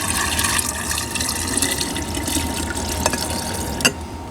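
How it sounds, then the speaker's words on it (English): Four cups of water are poured into a container for a drink recipe at a Father's Day barbecue, making a steady, continuous splashing fill sound that stays close and even, with no talk. "We're going to start off with 4 cups of water. So I'm just going to actually pour it in here."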